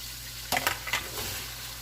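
One whole julienne-sliced onion drops into a hot pan for a smothered Salisbury steak pot pie, giving a short burst of sizzling and stirring, then a steady low fry hiss that continues alone.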